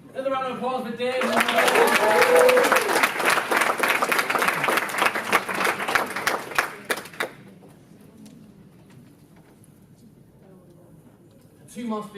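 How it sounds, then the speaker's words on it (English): A live audience at a public speaking competition breaks into loud, sustained applause for a speaker, the clapping swelling for several seconds before fading. Scattered voices follow, and a brief burst of sound returns at the end. "Another round of applause for Dave."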